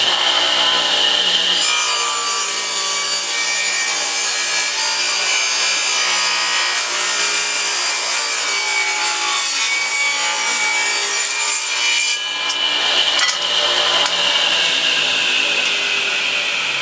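Wood is hand sawn to length for beehive frames, with steady, close, loud rasping strokes in a continuous rhythm and a brief break near the end before sawing resumes.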